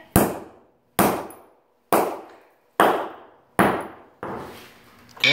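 Six heavy sledgehammer blows land on a cat figure sitting on a cement block, each a sharp close crack at roughly one-second intervals with a short ringing decay.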